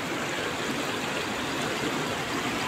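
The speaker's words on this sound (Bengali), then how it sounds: "সেই কারণে হয়তো হালকা পরিমাণে জল বার হচ্ছে" Water from a canal flows out of a fox burrow in a steady, close rushing trickle, a continuous hissing stream of even loudness with no talking.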